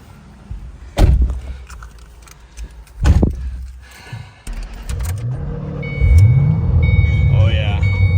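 A 2007 Saleen Mustang Supercharged Extreme makes two loud bursts of thumping sound, then its engine runs with a rising and falling rev and a faint whine, heard up close.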